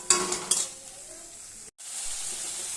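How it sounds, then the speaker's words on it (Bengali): Hilsa fish cooking in a pan with mustard, salt and turmeric, a close sizzle under several sharp scraping stirs early on, then a brief drop to near silence before the steady frying hiss resumes. "একটু নাড়াচাড়া করে আমি অল্প পরিমাণে জল দিয়ে মাছগুলো দিয়ে ঢেকে দেবো"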